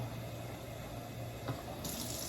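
Tap water runs steadily into the tank of a Bissell Spot Clean Pro Heat pet carpet cleaner, a continuous close-up rushing fill with no voices.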